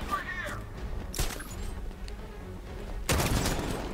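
Sentry gun fire in Batman: Arkham Knight, two short bursts of rapid gunfire, one early and one near the end, over low game ambience and a quiet hum.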